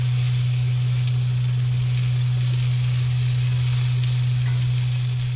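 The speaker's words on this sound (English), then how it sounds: "I'm gonna sear those." Thick pork chops sear in a pan at a winter campsite, a loud, steady sizzle and crackle over a constant low hum, with no voices.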